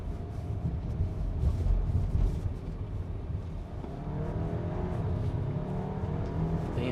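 Audi Q5 hybrid SUV accelerating hard, a steady loud engine and road drone with rising tones as the transmission shifts quickly through gears, heard from inside the cabin with no talking.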